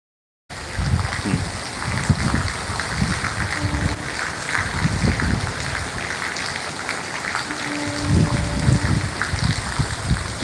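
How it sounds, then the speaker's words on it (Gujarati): Heavy rain hisses continuously in Wankaner, Gujarat, with water splashing and rumbling underneath, and no voices. "વરસાદ ચાલુ છે"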